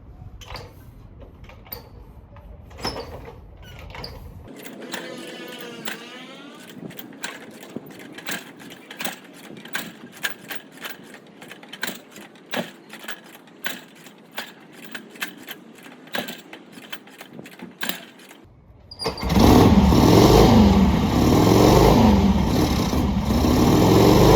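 A 1968 Harley-Davidson Ironhead XLCH motorcycle is kick-started: a long series of sharp mechanical clacks and thumps from the repeated kicks, then the engine catches and settles into a loud, rumbling idle.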